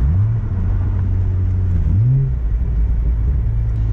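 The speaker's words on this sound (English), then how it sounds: "I'll rev match here." A Hyundai Genesis 3.8 engine blips up and settles back during a rev match, a loud, close rumble that briefly rises in pitch twice before settling back to a steady drone.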